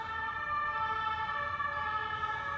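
A distant police siren on a Paris street wails steadily over low street rumble, its tone holding fairly constant for a few seconds.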